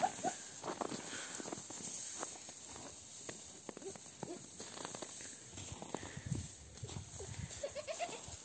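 Goats on a small farm bleat repeatedly at close range, with several short overlapping calls, some rustling and movement, and a steady background hiss throughout.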